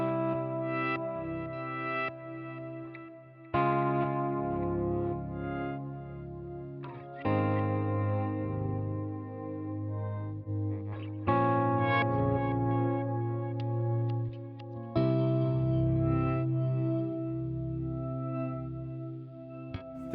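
Sustained guitar tones run through a glitch effect modeled on the Microcosm pedal, chopped into stuttering, repeating segments with shimmering, echoing textures changing every few seconds.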